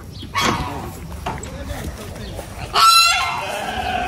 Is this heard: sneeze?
no